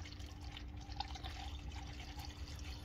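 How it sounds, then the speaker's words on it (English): AMSOIL motor oil poured from a height into a Honda engine, a quiet, continuous trickling stream with faint dripping over a low background hum. "And now it's time for the crazy tall pour."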